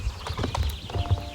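Horse hooves clip-clop in the video game Star Stable, a quick run of close, evenly paced steps with no talking over them.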